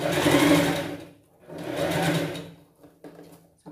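A sewing machine stitches down the middle of thin ric-rac trim beside a ribbon on a pet costume dress, running in two sustained bursts with a pause between, then a few short clicks.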